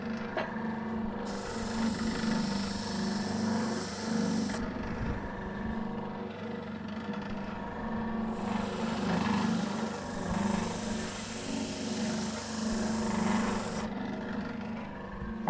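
A belt cleaning stick presses against a running sander belt that has been used on aluminium, making a harsh, close rasping scrape over the continuous motor drone. The scraping comes and goes in a few long passes, with no talking.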